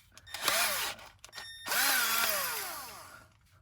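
A low-power cordless drill used as a screwdriver, whirring up in two bursts close by, the second longer with its pitch sagging under load before it winds down and stops.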